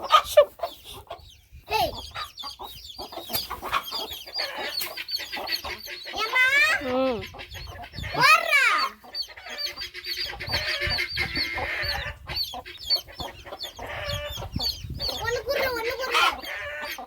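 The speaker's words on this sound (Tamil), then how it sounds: "இப்போ கோழி சவுண்ட் சவுண்டோட" Chickens cluck and a rooster-like call rises sharply among them in a narrow lane, with scattered fowl calls near and loud against an open background, and people talking intermittently in between.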